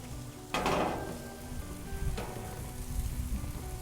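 Pork chops and asparagus sizzling on an outdoor grill, a steady close crackle and hiss with a couple of louder spits as food is moved.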